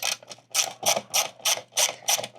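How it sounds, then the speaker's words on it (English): A hand ratchet loosens a factory bolt on a 2025 Toyota 4Runner during a mud flap install, giving about eight evenly spaced, crisp metallic clicking bursts up close with no talking. "now we're going to remove this factory bolt right here"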